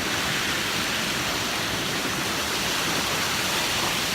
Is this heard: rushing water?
yes